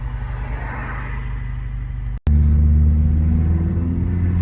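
A 2020 Mercedes-AMG A45 engine idles in traffic, a steady, loud low rumble heard alone from inside the car, briefly cutting out for a split second before returning deeper and heavier.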